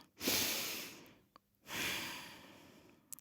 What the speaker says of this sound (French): Prendre une large inspiration.